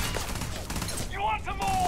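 Rapid bursts of gunfire from the video game Starfield crackle through a busy, dense mix, with a voice briefly talking over the shots.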